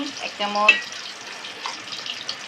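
Ginger-garlic paste hits onions frying in a pan for a goat head curry, giving a brief burst of sizzling and stirring, with a short voiced sound over it before the frying settles to a steady hiss.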